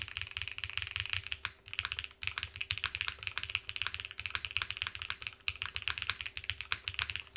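Rapid, continuous typing clatters on a Keycult x NovelKeys mechanical keyboard fitted with force breaks, with crisp individual keystrokes close and fairly quiet and no speech.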